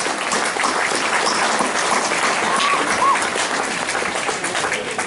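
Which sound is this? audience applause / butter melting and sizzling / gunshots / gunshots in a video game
audience applause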